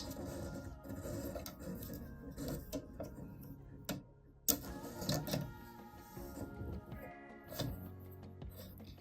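A sewing machine needle cycles once down and back up to catch the bobbin thread, giving a steady close mechanical whir with ticking and clattering and a short pause midway; no one speaks.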